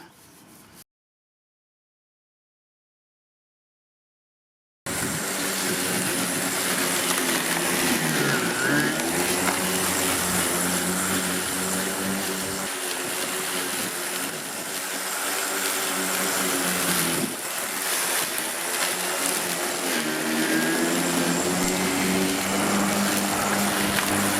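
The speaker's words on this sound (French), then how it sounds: "Le mien il n'est pas parfaitement plat et on voit que le moteur peut peiner." A Parkside PRMA 20-Li A1 33 cm 20V cordless lawn mower mulches grass, its motor whirring steadily and straining at times on uneven ground, loud and close after a brief silent gap at the start.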